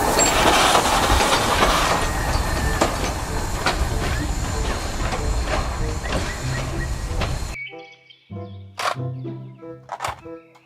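A toy Thomas train sound effect plays as a loud, continuous rumbling clatter with rhythmic clicks for several seconds. It then cuts off abruptly into quieter, sparse clicks and mechanical toy noises.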